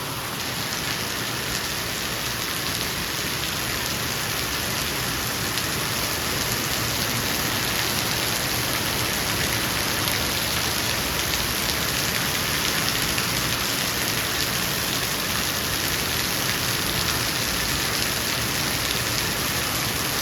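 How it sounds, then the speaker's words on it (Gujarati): Heavy rain pours down steadily and densely for the whole stretch, a continuous loud hiss with no voices. "એકદમ વરસાદ આવે જો"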